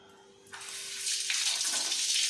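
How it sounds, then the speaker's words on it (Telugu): Water starts running from a tap after a quiet moment, a steady close splashing rush as goat tripe is rinsed under it. "ఇలా మంచినీళ్ళతో కడుక్కొని ఒకసారి"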